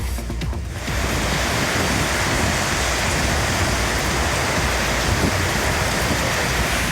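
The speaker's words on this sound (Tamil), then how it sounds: "அரை மணி நேரத்திற்கும் மேலாக இடி மின்னலுடன் மழை பெய்தது" Heavy rain pours down in areas such as Thiruvappur, Machuvadi, Thirugokarnam and Bosnagar, a loud, dense, unbroken hiss of downpour filling the whole stretch with no distinct thunderclap standing out.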